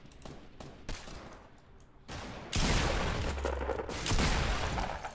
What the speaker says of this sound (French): j'entends des tirs